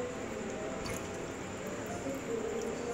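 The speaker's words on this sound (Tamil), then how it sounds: "இப்போ நம்ம தண்ணி விட்டு நல்லா கழுவிக்கலாம்" Ration rice is swished and rinsed in water by hand in a kitchen, giving soft, faint squelching and sloshing over a low steady background with no talk.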